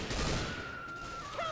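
Rapid fire from a punchy mag-pistol-style weapon in a video game, a fast burst of shots in the opening half second that trails into a steady hum and a brief electronic tone, fairly faint overall.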